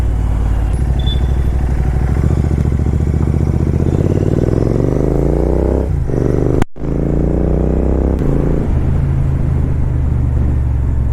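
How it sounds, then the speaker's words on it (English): A freshly serviced motorcycle rumbles steadily while being ridden, its engine note rising as it accelerates, with one sudden brief dropout and wind buffeting throughout; no talking. "The bike feels good now. Last week the servicing has been done and now the bike is good."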